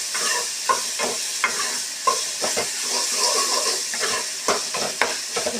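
Potato masala being stirred and fried in a pan, with a steady close sizzle and repeated scraping strokes of the spoon at an uneven rhythm.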